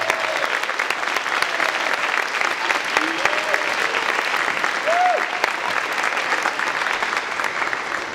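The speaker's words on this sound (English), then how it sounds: "So let's all give our sixth graders a big round of applause for their great performance." Loud, sustained audience applause for sixth graders after a school band concert, thick continuous clapping from a large crowd with a few faint voices and whoops rising briefly above it.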